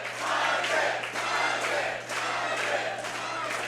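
Crowd cheering and shouting at the Hybrid Mania 4 wrestling event, a loud, sustained roar of voices in a hall that swells and dips a couple of times across a few seconds.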